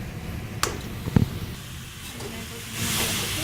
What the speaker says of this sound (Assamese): এতিয়া মই নাৰিকলখিনি অলপ দেৰি ভাজিম